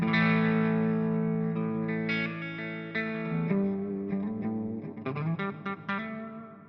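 An electric guitar plays through a clean amplifier, with ringing sustained chords followed by quicker picked notes, moderately loud and with no voices.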